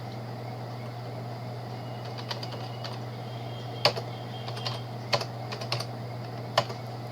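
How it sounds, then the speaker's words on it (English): Scattered, crisp key clicks on a computer keyboard as numbers are typed, coming in small irregular bursts over a quiet background hum. "Okay, then type the numbers here"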